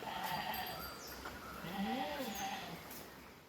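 A dairy goat bleats with a wavering, nasal call in the middle of the clip, over a steady outdoor background hiss.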